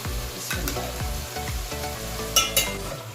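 Meat for dhuwan gosht sizzles loudly in a pot as yogurt goes in, with repeated stirring scrapes and a couple of sharp bright splatter bursts near the end, no talking.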